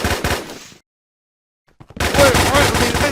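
Video game gunfire in a Minecraft WarZ mod: dense, loud rapid-fire bursts that cut to near silence for about a second, then resume just as loud and continuous, with voices mixed in.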